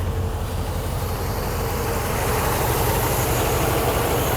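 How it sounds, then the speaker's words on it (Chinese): A Mercedes W126 560SEC V8 idles steadily after a freshly rebuilt fuel distributor, a smooth low rumble with even pulsing, close and continuous throughout. "我们来看看它的怠速"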